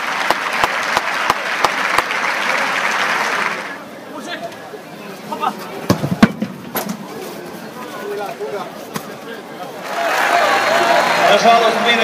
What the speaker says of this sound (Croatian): Još jedan put pljeskom pozdravimo Vatrene!